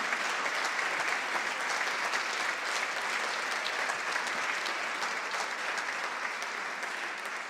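Concert audience at a charity concert for Ukraine applauding, a dense, even wash of clapping from a large crowd that holds steady throughout before easing slightly at the end.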